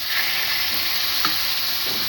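Parboiled rice and lentils are stirred into fried spices and vegetables in a pan for Gobindobhog khichuri, giving a continuous close sizzle with soft scraping stirs.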